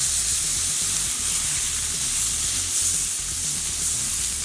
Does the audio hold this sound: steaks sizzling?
yes